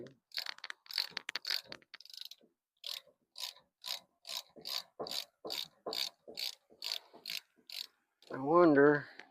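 A trike shaft mechanism, just busted free, is turned by hand, giving a run of about a dozen evenly spaced ratcheting clicks up close, followed by a brief voice at the end.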